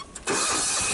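A tractor engine cranks over and catches, jumping from a quiet lead-in to a loud, steady running roar that fills the rest of the moment, close by and without talk.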